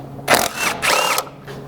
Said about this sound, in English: you just need a 19mm socket to remove these 3 lug nuts